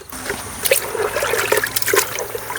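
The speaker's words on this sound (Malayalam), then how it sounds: "ചാണം വെള്ളമാണ് കലക്കി ഒഴിക്കുന്നത് കേട്ടോ." Cow dung mixed in water trickles and splashes unevenly onto plants in a kitchen garden, in short irregular pours, close by and moderately loud.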